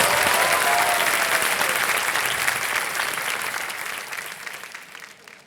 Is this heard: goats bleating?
no